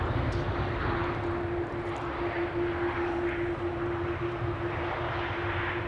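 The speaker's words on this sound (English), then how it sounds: "It's the UNICEF Norwegian 737 arriving from Stockholm." A Norwegian Boeing 737 in UNICEF livery arrives at Amsterdam Schiphol from Stockholm, its engines producing a steady, loud roar with a sustained whine throughout.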